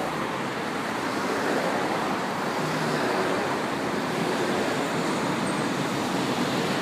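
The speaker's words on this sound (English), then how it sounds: "Also another Metro bus coming," A Sydney Metro bus rolls past in road traffic, a continuous broadband rumble and tyre hiss held at steady loudness throughout, with no voices.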